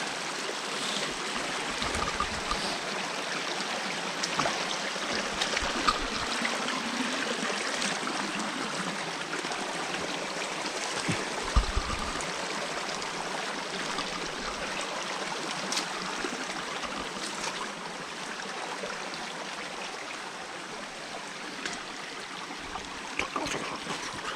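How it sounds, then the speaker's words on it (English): Water in a stream rushes and trickles steadily, a continuous close gurgling flow with no one speaking. "Love the sound of this water."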